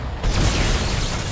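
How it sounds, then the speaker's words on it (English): A massive fire explosion in the sci-fi horror game Dead Space, a loud sudden boom swelling into a sustained roaring rumble. "massive fire explosion thingy"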